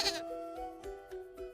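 Sheep bleat in a quick series of three or four wavering, nasal calls, close and fairly clear, with no one speaking.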